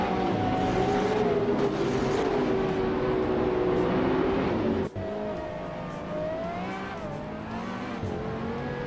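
A 2009 Pagani Zonda R race car engine in a racing video game whines at high revs, holding a steady pitch, dropping sharply at a shift, then climbing again, loud and continuous with no talk.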